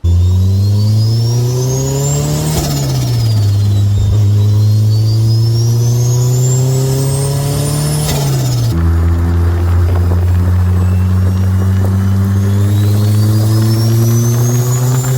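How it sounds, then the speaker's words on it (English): A car engine, newly fitted, with its air filter mounted in the passenger footwell, roars loudly and close inside the cabin, revs climbing and dropping through gear changes with a whining tone and a pronounced intake drone throughout. "The air filter in the passenger footwell is very loud"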